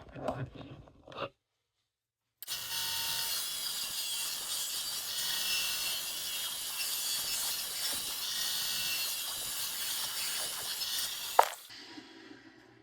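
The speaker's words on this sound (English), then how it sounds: "Let's hit her with the saw." Hand sawing of wood for a slingshot build, a continuous dense rasp lasting about nine seconds after brief handling noises and a short pause, close and steady.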